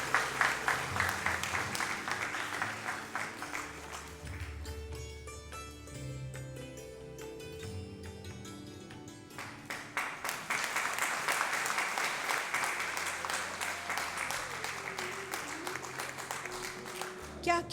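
A crowd at the launch of the book Lachhman Gun Gatha bursts into sustained applause. The clapping is dense and continuous, eases while music plays in the middle, then swells again.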